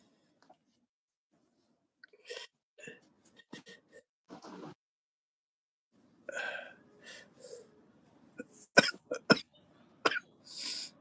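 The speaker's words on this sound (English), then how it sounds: "I'm still coughing a lot." Several short, harsh coughs and throat-clearing bursts come in scattered clusters, close by, with quiet pauses between them.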